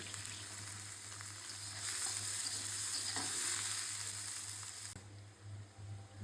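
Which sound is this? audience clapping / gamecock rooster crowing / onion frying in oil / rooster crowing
onion frying in oil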